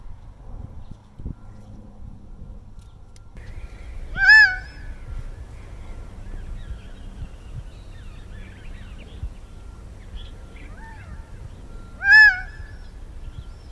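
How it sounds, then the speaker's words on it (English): Two loud, clear calls from a Gambel's quail ring out about eight seconds apart over a quiet background, each a sharp, ringing note. "I'm going to have you listen to a gamble's quail call"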